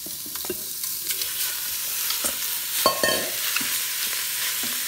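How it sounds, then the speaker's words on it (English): Roughly one-inch cubes of fatty pork brown without added oil in an Instant Pot, giving a loud steady sizzle broken by scraping and clinking as the meat is stirred, with no talking. "So we are gonna start browning our meat."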